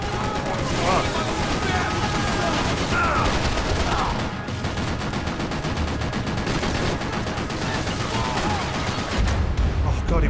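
Enemy gunfire in Max Payne 3, a dense, loud, continuous barrage of rapid shots that keeps going without pause for the whole stretch.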